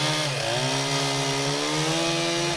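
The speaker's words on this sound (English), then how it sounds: "we use chainsaws and knives." Chainsaw running steadily at high revs while cutting through debris, a loud, continuous buzzing drone whose pitch sags briefly and then settles, with no voices.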